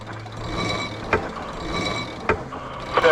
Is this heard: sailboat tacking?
yes